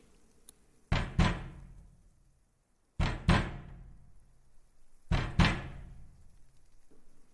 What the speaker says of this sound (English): and knocked at the door.